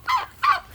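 Two short, loud honking calls from fowl on a field where several roosters and turkeys roam, each call a brief nasal burst with a pause between, close and with no talk.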